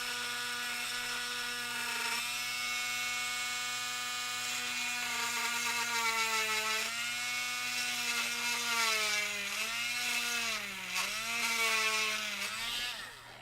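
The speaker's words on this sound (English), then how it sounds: "So let's go ahead and drill a hole straight in." Drill boring into plastic, a steady whirring tone that dips and wavers in pitch as the bit bites in and backs off, close and fairly quiet, with no voices.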